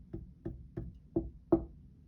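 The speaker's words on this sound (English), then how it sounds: "He knocked again at the door." Five knocks on a door come at an even, unhurried pace, each a short, dull rap, with the last two slightly louder, close by and isolated against a quiet background.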